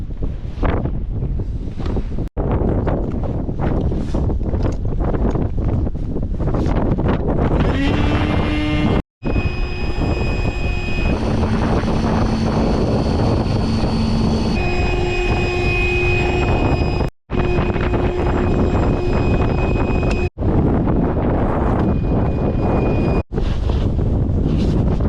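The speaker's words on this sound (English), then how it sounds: "We're going to use this Genovo Speedy air pump" Genovo Speedy air pump inflating a boat while a car engine runs nearby, a loud, continuous droning hum with shifting steady tones, broken by a few brief cutoffs.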